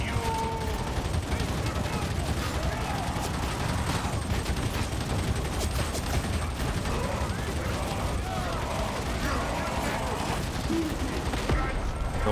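Sustained gunfire in the video game Warhammer 40,000: Darktide, a dense unbroken stream of rapid shots and impacts, loud and close throughout with layered battle noise and no pause.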